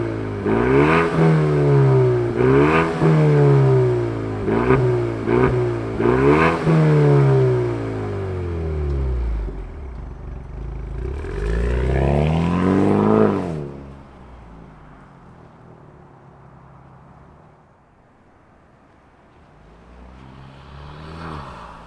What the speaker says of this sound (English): we got the performance exhaust, let's fire up this pony car and hear what kind of sound it makes